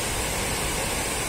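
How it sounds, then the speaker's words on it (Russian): A mountain waterfall roars with a steady, dense, hiss-like rush of water, loud and close, unchanging across the short stretch with no other sounds on top. "Правда, очень шумное место. Вода шумит."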